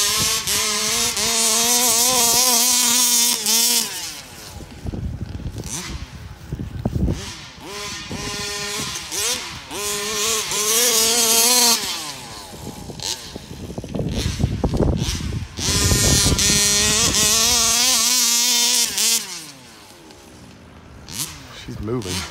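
A gas-powered Rovan RC truck engine buzzes and revs in rising and falling waves, a raspy two-stroke drone that swells and fades in several runs, fairly close with voices talking over it.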